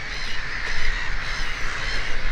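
A crow-like bird calls outdoors near a river in Russia, its harsh caws sitting low and partly buried in strong broadband wind and background noise.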